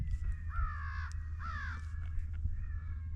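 Two harsh crow caws about a second apart, then a fainter third call, sounding fairly distant over a steady low rumble of wind, at an outdoor coyote-hunting setup.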